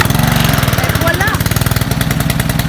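Honda engine of a Ryobi 3000 psi 2.4 GPM gas pressure washer running up close, a loud rapid chugging drone with steady pulses and a brief high squeak partway through.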